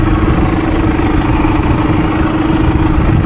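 A Fendt Vario 312 tractor engine idles close up with a steady, loud, even rumble and constant low hum, unbroken and with no voices.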